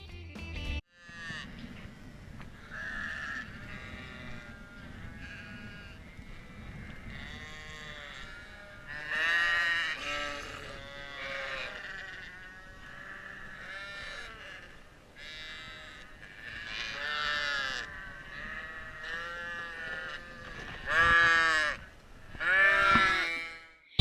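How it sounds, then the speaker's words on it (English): Ewes and lambs bleat on a farm at feeding time, with many overlapping calls that rise and fall over steady barnyard background noise, growing louder in bursts toward the end. "Now we're going to go ahead and feed the other sheep, which are ewes."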